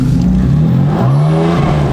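BMW M4 rear-wheel-drive car accelerating on a wintry road, its engine note rising and stepping through revs loud and close, with a hint of tire scrabble.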